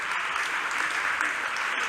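An audience at a university thesis competition final claps for the candidates on stage, a brief, dense, continuous burst of applause at steady loudness.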